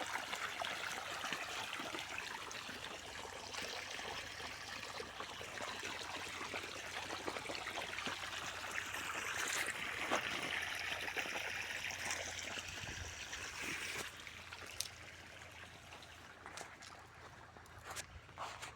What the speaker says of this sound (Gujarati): આમાં અત્યારે ધીમે ધીમે સિંગલ ફેજ મોટર દ્વારા પાણી ચાલુ છે